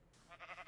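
A sheep bleats in Minecraft Beta 1.7.3, a brief wavering bleat rising out of quiet ambience, close and moderately loud.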